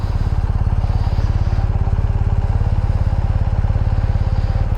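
A 2023 BMW GSA motorcycle engine runs steadily up close, a loud, even, throbbing idle with a fast regular pulse and a faint mechanical clatter, with no talk over it.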